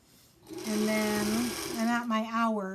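A sewing machine runs steadily, stitching one last seam in a continuous whirring burst at close range, with a person's voice overlapping the motor.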